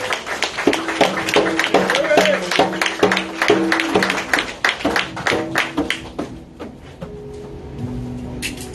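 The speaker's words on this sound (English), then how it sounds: "Please give him a round of applause." A church congregation at a youth Shabbat service gives a loud, dense round of applause mixed with cheering and shouting voices, which thins out and fades toward the end.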